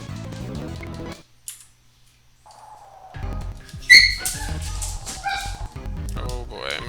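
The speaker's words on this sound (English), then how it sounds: "my doggies are being silly again" Dogs whimper and yip at close range in short, uneven bursts with a high whining squeal, broken by a brief quiet stretch, while a person talks over parts of it.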